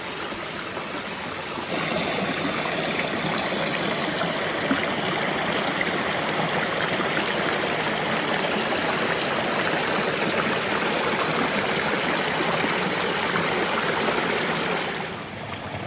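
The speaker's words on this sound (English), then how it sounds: "it created this little waterfall looking area" A creek runs over a small rain-formed waterfall of piled leaves and debris, making a continuous close rushing and trickling sound with no voices.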